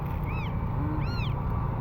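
Newborn abandoned kittens, five of them dumped near a trash bin in grass, give two thin rising mews over steady, heavy outdoor background noise.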